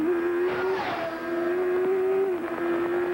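A 1991 IndyCar engine screams out of a chicane at the Gold Coast street circuit, heard from an in-car camera as a steady, loud, high-pitched drone that holds a near-constant note with slight rises and dips.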